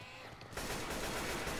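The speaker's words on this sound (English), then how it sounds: "Watch where you're shooting!" Rapid gunfire bursts out in the Left 4 Dead 2 video game after a brief quiet moment, a dense, continuous rattle of shots that stays fairly faint in the mix.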